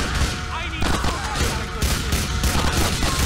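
Gunfire in GTA IV: The Ballad of Gay Tony, with rapid shots popping and overlapping continuously at close range, loud and dense throughout.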